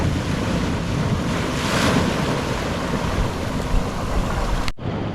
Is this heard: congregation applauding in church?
no